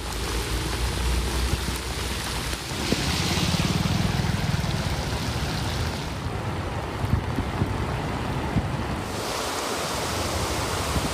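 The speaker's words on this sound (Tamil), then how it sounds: "இடியுடன் கூடிய கனமழை பெய்தது" Heavy rain pours in a steady, dense wash of noise during a thunderstorm in Tamil Nadu, continuous and loud throughout, with no distinct thunder claps standing out.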